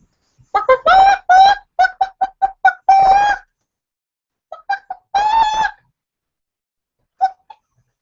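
A person imitates chicken clucking with their voice: a quick run of short, pitched clucks, a long drawn-out squawk, then a few scattered bursts and a final lone cluck, loud and close with nothing else behind it.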